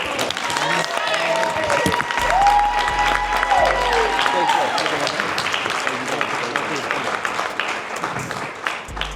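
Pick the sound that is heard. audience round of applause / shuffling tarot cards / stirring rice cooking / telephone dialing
audience round of applause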